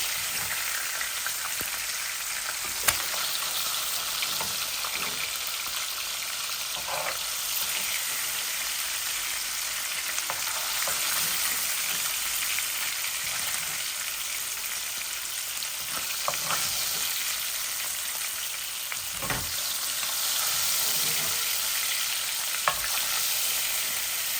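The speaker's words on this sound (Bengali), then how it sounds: "মাছ ভাজা হয়ে গেল আমি এখন মাছটা উঠাই নাই" Hilsa fish pieces fry in hot oil in a pan, a continuous loud sizzle with occasional sharp pops and spatters over about twenty-four seconds, no talking.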